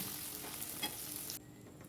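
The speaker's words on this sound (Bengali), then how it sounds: "জিরে তেজপাতা ফোড়ন দিয়ে দিয়েছি আমি, দিয়ে এবার আলুগুলো দিয়ে দিচ্ছি।" Boiled potatoes frying in hot oil with cumin seeds and bay leaf, a steady close sizzle with a brief stirring swell, cutting off abruptly near the end.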